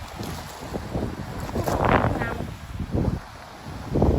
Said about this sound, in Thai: ลมแรงค่ะ